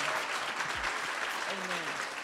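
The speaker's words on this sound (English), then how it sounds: "give a round of applause for the life and legacy that she's left behind" Mourners at a celebration of life applaud together, a steady, full wash of clapping throughout, with voices calling out over it.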